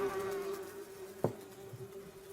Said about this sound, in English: The buzzing is frightfully loud.